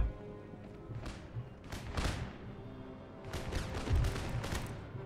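Musket volleys in the Empire: Total War battle game: several rolling, crackling bursts of massed gunfire over a low rumble, a couple of distinct volleys a second or two apart, moderately loud.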